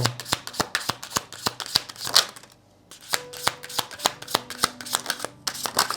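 Tarot cards riffle-shuffled in quick, crisp bursts of snapping card edges, with a brief pause midway before the shuffling resumes, close and loud with no talking.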